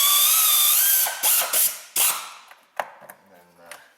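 A hand ratchet tightens the EGR bolts on a Dodge Caravan / Chrysler Town & Country, with a brief whirring spin followed by several close, crisp clicks that fade out.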